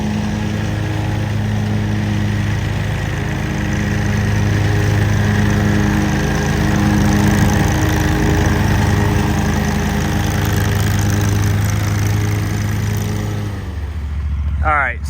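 A John Deere Z930 zero-turn mower runs steadily while cutting grass, its engine drone loud and continuous and fading slightly at the end, with people talking over it.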